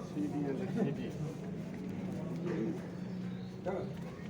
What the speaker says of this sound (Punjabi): ਇਹ ਚਿੜੀ ਕਹਿੰਦੇ ਨੇ